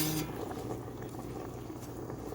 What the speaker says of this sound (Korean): 고추잎을 데치고 있습니다